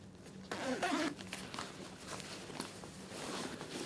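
A zipper on an Alpinestars GP Tech V3 leather race suit is pulled down in a short, quiet rasp, followed by soft rustling and handling of the leather, close by with no talking.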